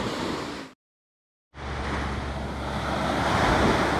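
Ocean waves and surf around a kayak at sea, a loud continuous wash of breaking water with wind, cut briefly by a short gap of silence before the surge resumes and builds.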